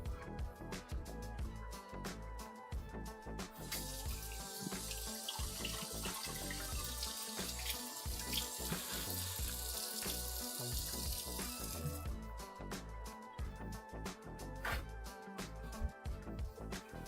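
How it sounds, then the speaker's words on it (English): Cold tap water runs hard and steady from a faucet while splashing onto a hot, sweaty face, a loud, close, continuous rush with irregular splatter bursts throughout. "Cold water on a hot, sweaty face is refreshing."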